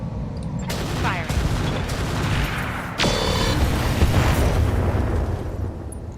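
Weapons fire in the BattleTech mod RogueTech: a burst of booming, crackling volleys from battle mechs, one strike near the start and a heavier salvo midway, loud and continuous with low rumbling explosions throughout.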